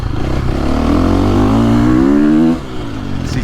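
A 2023.5 KTM 450SXF Factory Edition dirt bike engine revs loud and close, climbing steadily in pitch for over two seconds before the throttle drops off to a lower idle.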